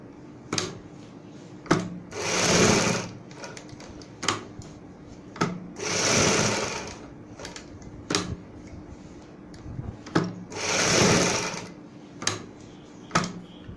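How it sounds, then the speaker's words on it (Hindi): A sewing machine stitches fabric along buckram for a neck design in several short bursts of rapid whirring. Clicks and handling taps come in the quiet gaps between runs. "यहाँ पे ऊपर इस तरीके से हम सिलाई लगाएंगे"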